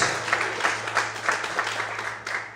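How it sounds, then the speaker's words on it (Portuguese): A church congregation applauds for a short, fairly quiet stretch, with rhythmic clapping pulses throughout. "Você pode glorificar e aplaudir ao Senhor essa manhã"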